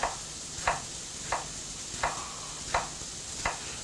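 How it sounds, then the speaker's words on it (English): A knife chops an onion into small slices on a board, with six evenly spaced, crisp cuts roughly two-thirds of a second apart, close and alone against quiet background hiss. "I'm just going to cut the onion. So we want quite small pieces tonight."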